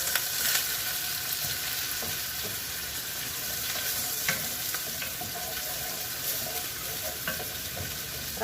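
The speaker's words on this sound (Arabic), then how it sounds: "راح ادبل البصل والثوم علينا البصل يتغير لونه" Onion and garlic fry in olive or plain oil with a continuous bright sizzle, punctuated by occasional scraping stirs of a utensil in the pan, steady and close with no talking.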